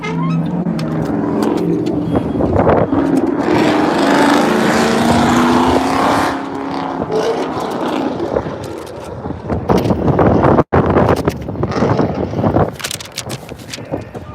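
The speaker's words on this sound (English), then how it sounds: "And it's still windy out here." Strong gusty wind buffets and roars continuously, with rushing noise and passing traffic-like rumble throughout.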